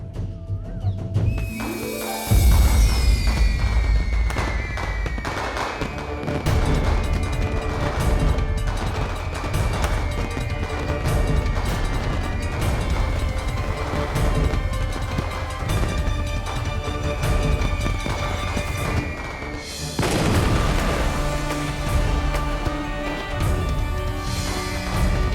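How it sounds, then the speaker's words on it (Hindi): Fireworks going off in a long, dense barrage of bangs, crackles and whistling streaks, loud and continuous with a heavy boom near the start and another surge toward the end. "आतिशबाजी शुरू हो गई।"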